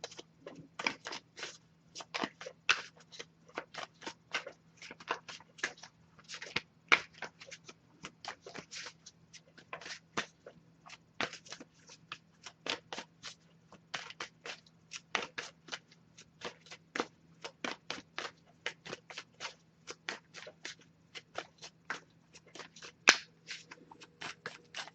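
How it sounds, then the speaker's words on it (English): A deck of tarot cards shuffled by hand in steady bursts of crisp riffling clicks, close and fairly quiet, repeating through the whole stretch over a low constant hum with no one talking. "I'll give it a few more shuffles before we move on."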